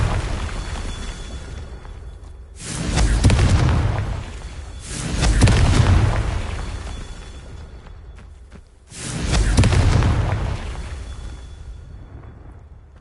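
Confringo spells from a Hogwarts wizarding video game erupt as three heavy, booming blasts a few seconds apart, each with a swelling rumble that slowly fades, and no voices.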